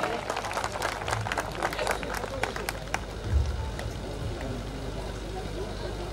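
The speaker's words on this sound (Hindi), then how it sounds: "एक बार पूरा सदन सुनील जी के लिए जोरदार तालियां बजाएं।" Crowd applause in a packed hall at a birthday celebration, welcoming the poet Sunil: dense, steady clapping throughout, loud and close, fading slightly toward the end.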